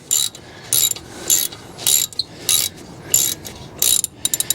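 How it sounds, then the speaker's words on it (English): A ratchet on an extension bar loosens a hex bolt on an Audi TT mk1 brake caliper, giving sharp, close clicking bursts in an uneven series of strokes, ending with a quick flurry of short clicks. "Just using a ratchet and extension bar on this hex bolt."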